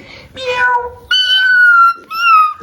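Three electronic meows from a toy cat, each a bright, steady tone, close and fairly loud with short pauses between.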